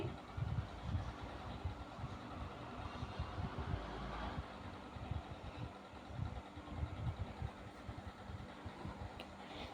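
A sewing machine stitches along a folded edge of a layered baby gown, giving a faint, low, rhythmic thumping whir that runs steadily throughout at a quiet level.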